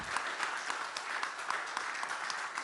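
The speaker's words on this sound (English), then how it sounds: "Round of applause, huh?" Steady applause from a crowd at a Joe Biden speech in Kenosha, dense clapping with small swells, loud and close, no voices standing out.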